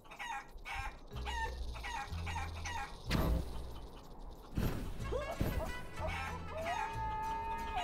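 A chicken in the video game Guacamelee gives short repeated clucks and squawks, fairly close and clear, with other game sound effects and a voice talking at points.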